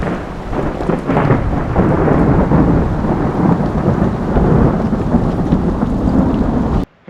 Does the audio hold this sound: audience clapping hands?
no